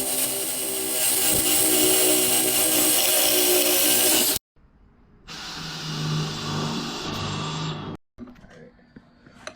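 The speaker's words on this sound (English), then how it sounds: "let me get these holes drilled" Power drill boring holes into aluminum rails for mounting Renogy solar panels on an RV toy-hauler, a loud continuous whine for about four seconds, then a second shorter burst after a brief pause, with a faint third run at the end.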